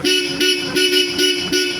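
A loud aftermarket plug-and-play car horn honks in five short repeated blasts, evenly spaced, with a bright two-tone ring.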